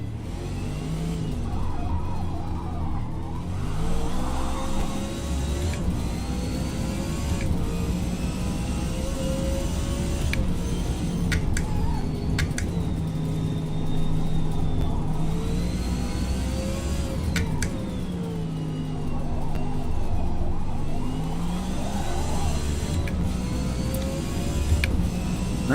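A 1969 Lola race car engine in the Forza Motorsport racing game, a steady loud engine drone rising and falling through gear changes and revs for the whole stretch, with no talk over it.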